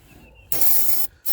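Two short bursts of starting fluid hiss from an aerosol can into a Ford Ranger engine, the first about half a second long, then a brief pause and a second spray, loud and close.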